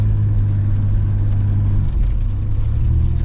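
Supercharged Pontiac 6000 car on the road, a loud, steady low engine drone and road rumble from inside the cabin, continuous with no talking.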